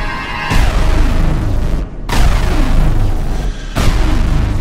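Loud booming blasts of gunfire and explosions in an action movie battle scene, three heavy bursts roughly every two seconds with rumbling decay between them, no speech over them.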